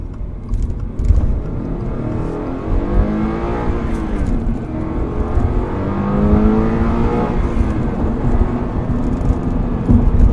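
A Subaru BRZ sports car's engine drones and revs steadily while it drives through traffic, its pitch rising and falling through gear changes, heard loud and close from inside the cabin with no talking.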